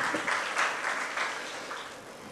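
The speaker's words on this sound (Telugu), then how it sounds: "చప్పట్లు కొట్టి దేవుని స్తుతిద్దాం." A church congregation claps together in praise, making a dense, steady wash of applause that swells slightly in rhythmic waves and fades a little toward the end.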